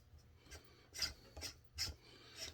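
A screw is driven into a metal case splitter with tight threads, giving about five short rasping, grinding bursts at a regular pace, close and fairly quiet, with no talk.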